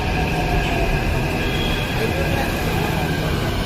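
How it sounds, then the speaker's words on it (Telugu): Riding inside a metro train, a loud steady rumble of wheels on track fills the cabin, with a faint high squeal riding over the constant roar. "మేమైతే మెట్రోలో వెళ్తున్నాం అన్నమాట."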